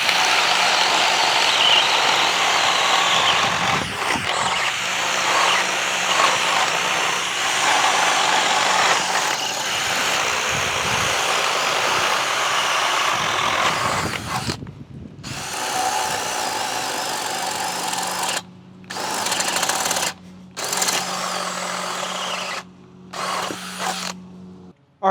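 Two DeWalt 20V power drills, one running a PowerStack battery and one a conventional battery, whine loudly together for about fifteen seconds, then fire in short stop-start bursts with abrupt silences between them.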